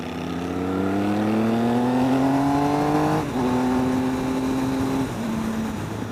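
A 2013 Triumph Speed Triple motorcycle engine revs up steadily during a test ride, then drops briefly at a gear change and pulls on again, a loud, close, rising engine drone.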